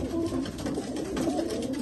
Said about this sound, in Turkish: Arkadaşlar güvercinler gerçekten çok güzeller.